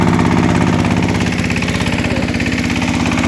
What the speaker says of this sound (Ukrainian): Так, включаємо першу, даємо газ.